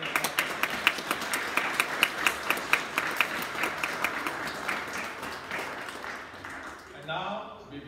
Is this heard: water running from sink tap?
no